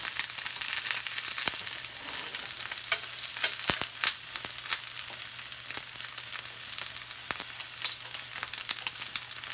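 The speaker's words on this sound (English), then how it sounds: "try to give it a nice sear here" A steak sears in a hot pan, giving a loud, continuous sizzle with sharp crackles and pops scattered throughout and no voices.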